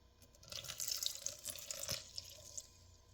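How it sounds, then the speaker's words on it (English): Water poured into a bowl of bread dough mix for a fruit loaf, a splashing, trickling pour with short bursts and drips, close and fairly quiet, with no talking. "final ingredient for now is 270 millilitres of water, which I'm thinking that's probably about right. So we're going to put that all in there"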